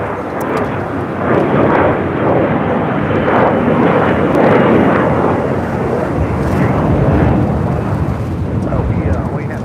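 Airliner taking off from runway 25 right at LAX, a loud, steady broadband engine roar with rumbling low end that holds throughout at close to medium range.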